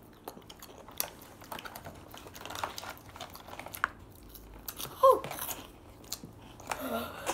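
Someone chews a spicy egg close up, with soft wet crunches and bites scattered across the clip and a few sharper clicks, over quiet background noise.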